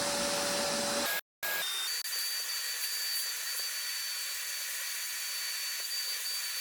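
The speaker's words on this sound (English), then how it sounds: "I'm gonna vacuum everything I can out of it." Vacuum cleaner sucking dirt and debris out of a 5.3 LS engine being rebuilt for a buggy, a loud steady whine that cuts out briefly, then resumes as a constant high hum with no voices.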